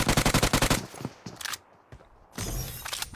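Rapid automatic gunfire from PUBG Mobile, a fast burst of evenly spaced shots up front, then scattered single cracks and a second sustained burst near the end, loud and close with no talk.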